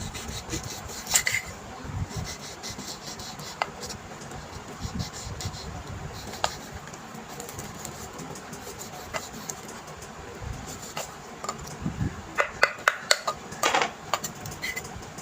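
Knife cutting raw mango into small pieces for a crushed mango pickle, a steady close scraping and rubbing on a board with sharper clicks and taps clustering near the end, no talk.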